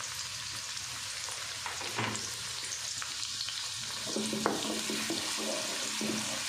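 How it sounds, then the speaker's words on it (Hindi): Onion sautés in hot ghee, a soft, even sizzle close by with a few light stirring scrapes and a faint tonal hum toward the end, with no voices. "घी गर्म हो गया तो अब इसमें प्याज डाल देते हैं।"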